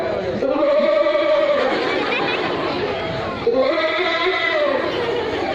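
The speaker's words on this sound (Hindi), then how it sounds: "बकरी जिस टाइम घास पानी मांगती है आवाज लगाती है" Two drawn-out goat bleats, loud and close, with a short gap between them over a busy background of chatter.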